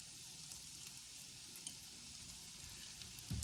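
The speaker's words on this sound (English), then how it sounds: "we're going to saute our onions so they're transparent" Chopped onions sautéing in a pan for chicken chow mein, a steady close sizzle and crackle running throughout with a brief stirring clatter near the end.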